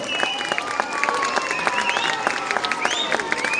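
A school crowd claps for a pupil placing second nationally in wushu at a Republic Day show; sustained, even applause fills the hall, with a faint high whistle-like tone drifting over the clapping.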